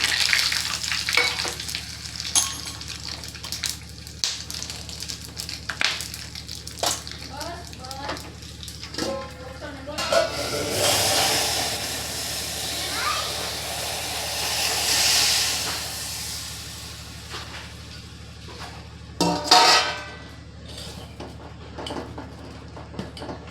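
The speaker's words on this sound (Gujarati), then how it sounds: "રાઈને બધા મસાલાનો વઘાર મારી દઈ." Mustard seeds and spices crackle and sizzle loudly in hot oil for tempering dal, a steady hissing fry with sharp pops, swelling in bursts and continuing throughout with clinking utensils.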